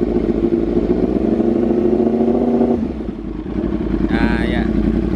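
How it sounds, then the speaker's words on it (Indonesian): A Yamaha R1M crossplane four-cylinder superbike with an Arrow exhaust revs loudly and close, holding a rough, throbbing drone before dropping to a burbling idle, while someone talks over it. "nih suaranya crossplane guys. Jadi nembak-nembak gitu. Jadi habis digas dia ada nembak-nembaknya gitu deh guys."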